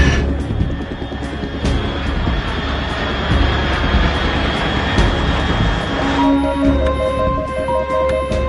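Aircraft roaring overhead in the stealth game Metal Gear Solid 3, a loud, steady engine rumble that holds for several seconds before high electronic tones and beeps cut in over it.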